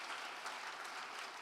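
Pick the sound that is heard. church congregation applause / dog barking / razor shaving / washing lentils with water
church congregation applause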